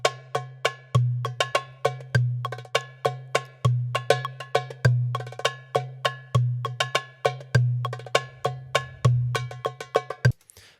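Crisp metronome clicks in Ableton play in a steady pulse alongside an odd-meter Drum Genius loop, with a repeating low drum thump. Together they form a bright, evenly spaced rhythmic pattern that stops abruptly.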